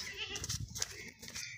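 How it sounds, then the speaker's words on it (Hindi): A young milking nanny goat with kids bleating at a livestock market, several wavering, nasal bleats close by over a soft, busy background with no clear speech. "ये बच्चे वाली बकरी है माशाल्लाह, बहुत ही ज़बरदस्त बकरी है"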